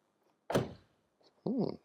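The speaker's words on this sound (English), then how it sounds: "What about the door closing sound?" A frameless door on a Mercedes-AMG GT 53 4-door closes with one solid thunk, followed by a brief softer latch sound, heard alone at close range.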